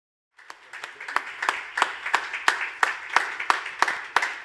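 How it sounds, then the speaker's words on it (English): Applause at an awards ceremony for a business category winner, a fairly small audience clapping steadily in a moderate, even rhythm for a few seconds, not very loud. "One final round of applause for the winner of the Emerging Business category"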